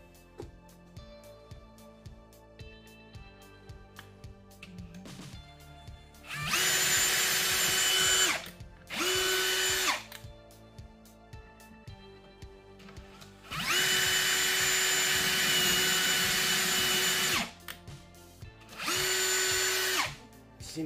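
A Ryobi cordless drill bores into a wooden wall stud in four loud whirring bursts of a few seconds each, separated by quieter gaps with a faint background hum.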